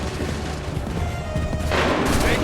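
Musket volley fired by a line of soldiers in Assassin's Creed III, a dense burst of overlapping shots swelling over ambient battlefield noise, loud and close with no voice over it.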